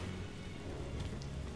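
Rainfall in the Egyptian-temple action game Lara Croft and the Temple of Osiris, a soft, steady hiss of drops with a low rumbling bed underneath, quiet and continuous.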